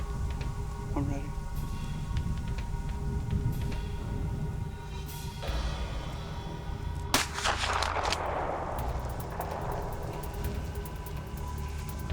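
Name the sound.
rifle shots fired at a whitetail deer while hunting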